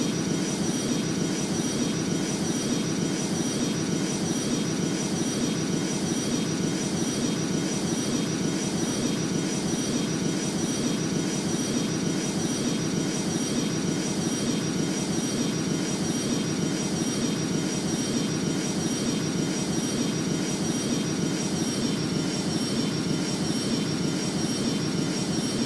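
Airplane engines drone in the Rortos Extreme Landings flight simulator game, a loud, steady roar with a faint high whine on top that holds unchanged throughout, with no talking.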